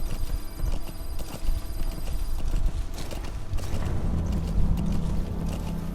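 A horse's hooves clip-clop in Metal Gear Solid V: The Phantom Pain, a steady close trotting rhythm mixed with game effects and a faint ringing tone early on.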